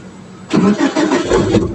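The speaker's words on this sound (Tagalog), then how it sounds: "Start muna natin yung makina." A car engine cranks and catches after a half-second of quiet, then settles into a close, loud, slightly uneven idle with pulsing revs, during light rain.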